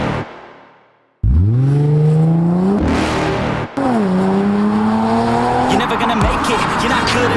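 A 420 hp Audi S4 on a road test, its engine roaring loudly as it accelerates hard through rising revs, shifting gears with brief dips before pulling up again, with a voice speaking over it partway through.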